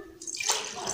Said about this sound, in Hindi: थोड़ा डालेंगे जी पानी, थोड़ा डालेंगे